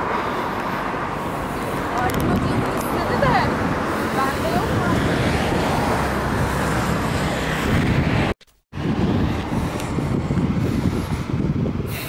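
Sea surf breaks on a beach in Alanya as a broad, steady wash with wind buffeting the microphone, cut by one brief dropout.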